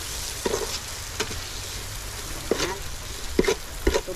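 Pork longganisa sausages frying in a pan, a steady background sizzle broken by a few short clinks and scrapes of a utensil stirring them.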